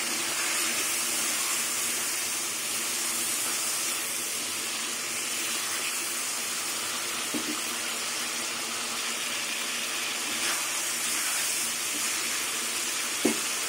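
Diced pre-fried potatoes sizzle steadily in a pan with chilli powder and spices, a continuous close frying hiss broken by a few sharp clicks of stirring and no voices.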